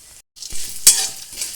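Five-spice seeds and dried lentil bori hit hot oil for a bottle gourd curry, crackling in short loud sizzling bursts with a brief quiet gap, close by and with no voices.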